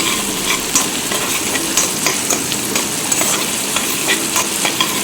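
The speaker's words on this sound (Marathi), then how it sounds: "आता कांदा हे छान परतून घ्यायचं आहे" Onions frying and being stirred in a pan, heating until red in a home Indian kitchen, with a steady close sizzle and repeated scraping stirs throughout.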